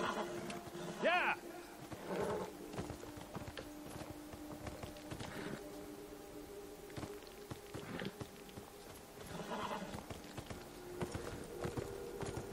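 Horse hooves clip-clopping in the video game Beyond: Two Souls, irregular hoof beats at a walking pace mixed with game ambience and faint voices.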